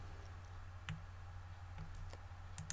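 Quiet computer mouse clicks during Blender modeling work, a handful of sharp, isolated ticks spaced irregularly over a faint steady room hum.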